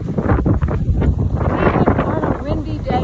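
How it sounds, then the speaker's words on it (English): Gusty wind buffets the microphone on an autumn hiking trail among golden aspens, a continuous loud rumble and roar while someone talks over it. "even on a windy day like today."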